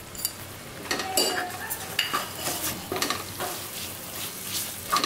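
Ground spices stirred into a pan of jackfruit and prawn curry, a spoon scraping in quick uneven strokes over a steady sizzle of frying, close and moderately loud, with no talking.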